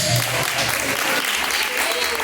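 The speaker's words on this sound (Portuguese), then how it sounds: "As palmas que louvam a Deus." Church congregation at a live worship service clapping in praise to God, a thick, continuous wash of applause that fills the room steadily from start to finish.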